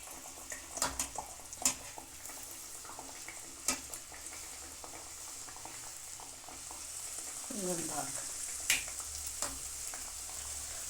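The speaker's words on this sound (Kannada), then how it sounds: "ಎಣ್ಣೆನೂ ಕಾದಿದೆ ನಮಗೆ. 2, 3, 4 ಎಷ್ಟು ಹಿಡಿತಾವೋ ಅಷ್ಟು ಹಾಕಿ ಕರಿಬೋದು." Crispy bakery-style sweets deep-fry in hot oil in a large wok over a medium flame, a soft continuous bubbling with sharp clicks and clatters of a utensil turning the pieces.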